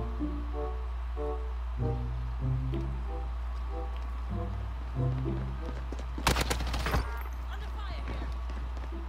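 Call of Duty Warzone gunfire: a tight cluster of sharp shots around the middle, mixed with game music and ambient sound, with voices talking over it.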